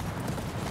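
Horse hooves clip-clop briefly in the video game Attack on Titan 2, a quick soft patter of hoofbeats under game ambience.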